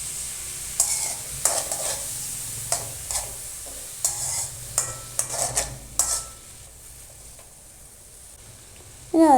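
Mushrooms, about 200 grams, sizzle in a pan while a utensil stirs them, giving a series of near, regular scraping strokes over a soft frying hiss, then a quieter stretch and a brief clatter at the end.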